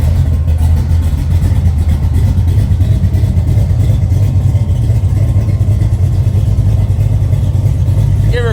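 A burnout truck fitted with boom tube exhausts runs with a loud, close, steady low rumble that holds throughout, with no clear revs.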